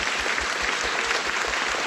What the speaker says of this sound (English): So I want to give a round of applause to all of these people who are staying indoors.